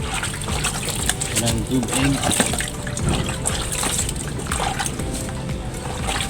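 Water trickles and splashes steadily during wet-sanding of a motorcycle headlight cover on a TMX 155, with a person talking over it close to the microphone.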